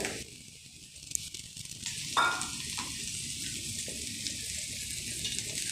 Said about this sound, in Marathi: कढईमध्ये थोडंसं तेल टाकून घेतलं आहे त्यामध्ये मशरूम टाकून घ्यायचे